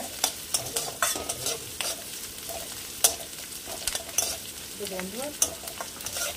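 Kadhi is stirred and fried in a pan, with a spoon repeatedly scraping and clinking against the metal over a soft, steady sizzle, close up and with no talking.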